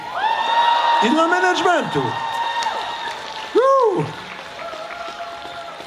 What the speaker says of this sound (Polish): Duże brawa dla nich!